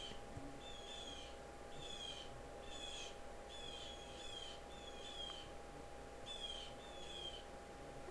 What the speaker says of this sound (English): Y'all hear those birds?